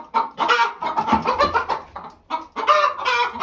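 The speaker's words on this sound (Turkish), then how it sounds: "Bak tavuklar zaten kolluğa girmişler yumurtlamak için." Laying hens cluck and croon loudly and close by, in bursts of throaty, drawn-out calls with brief pauses between them.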